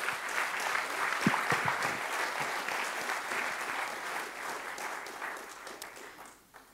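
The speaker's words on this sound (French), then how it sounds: "Je pense qu'on peut les applaudir." Audience applause for speakers at a French business talk on investors and boards, steady clapping from a crowd in a hall, moderately distant, fading at the end.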